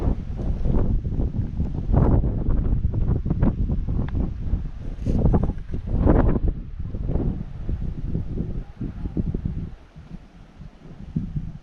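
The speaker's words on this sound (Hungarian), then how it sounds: "Nem semmi szél támadt itt fel hirtelen." Strong wind on a hiking trail in the Királyerdő mountains, Transylvania, buffets the microphone in heavy, rumbling gusts that rise and fall, easing somewhat toward the end.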